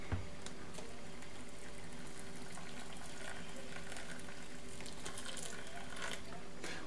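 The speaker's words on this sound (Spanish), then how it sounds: "Cuando está mezclada con tomate, ponemos encima agua caliente." Hot water is poured over couscous mixed with fried tomato, a steady close trickle and splash with faint clinks over a constant low hum, no voices.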